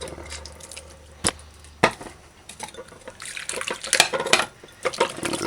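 Tap water running into a sink while food is rinsed during home cooking, with splashing and a few sharp clinks of dishes, close and moderately loud, growing busier toward the end.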